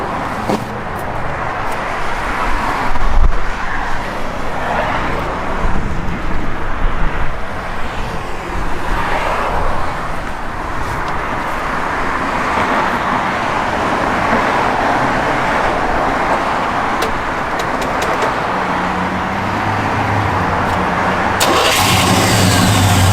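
The engine of a 1969 Chevrolet Chevelle SS turns over and catches, then settles into a steady, fairly loud rumbling idle that runs on close by.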